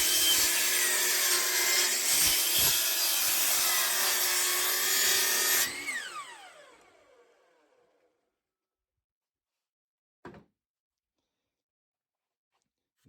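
A power saw cuts wood boards to length, a loud steady whine for about six seconds that winds down and fades out, followed by silence and a single faint knock.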